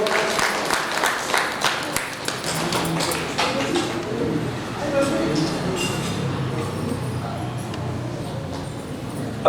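An audience at a community Agnihotra gathering in Hassan claps, a busy patter of hands with sharp taps and some chatter mixed in, holding fairly level throughout.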